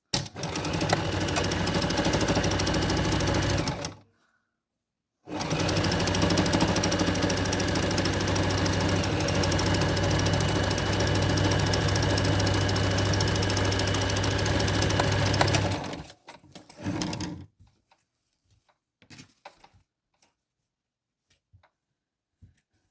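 A sewing machine runs in long steady bursts while stitching a felt robin's nest and leaves for a quiet book: a loud, even mechanical drone, one short pause, then a final brief run before quiet.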